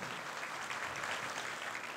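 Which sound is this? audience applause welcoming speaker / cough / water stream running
audience applause welcoming speaker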